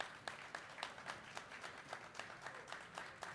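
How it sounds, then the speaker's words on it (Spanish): Audience applause at a book-fair talk in San Pedro Sula, a steady patter of many hands clapping, fairly distant and even in rhythm throughout, with no voices over it. "aplauso a este compañero."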